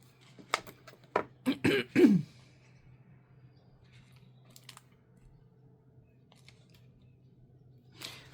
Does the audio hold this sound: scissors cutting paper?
yes